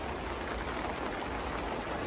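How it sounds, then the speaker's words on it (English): Steady rain falls outside on an allotment, a dense, even hiss of drops with no pauses or voices. "I'm currently hiding out from the rain"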